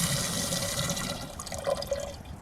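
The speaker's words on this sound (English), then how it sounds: "I'm just filling up my water jug because this one has a spigot on it" Water runs from a spigot into a water jug at a forest campsite, a steady rushing splash with fluctuating gurgles that thin out toward the end, heard alone.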